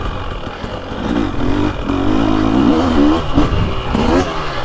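2023 Husqvarna TX300 Heritage Edition two-stroke dirt bike revving hard while accelerating over choppy woods terrain, a loud, close engine note rising and wavering continuously.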